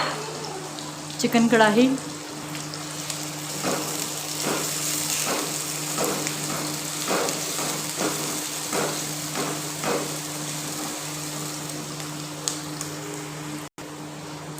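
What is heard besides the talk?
peeled garlic frying in a pan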